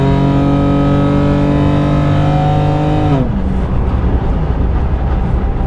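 A 2005-era-style BMW 325xi cruises on the highway near 60 mph, its engine droning loudly and steadily from inside the cabin with strong tonal hum, then the pitch drops and the drone turns to broadband road and wind rush.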